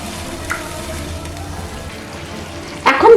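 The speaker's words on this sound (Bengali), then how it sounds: "এখন আমি এর মধ্যে দিয়ে দিচ্ছি সামান্য পরিমাণ জল বা পরিমাণ মতন জল" A pan of sautéed spice masala sizzles and gets stirred at close range, then a burst of louder splashing hiss near the end as water is poured in.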